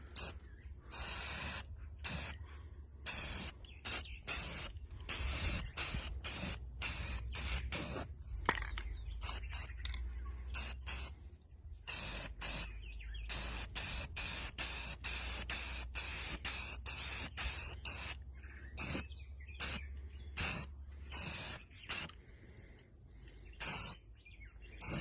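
A spray can hisses in many short, sharp bursts and a few longer passes, close and loud, as coats of paint and adhesion promoter go onto a block-off plate for the heater box hole on a C10 gasser.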